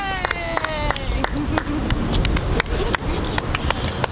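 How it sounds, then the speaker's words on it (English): Wedding ceremony guests clapping and cheering for a newly married couple, sharp scattered claps over crowd chatter and whoops, with a voice speaking near the start. "Big cheer, everyone!"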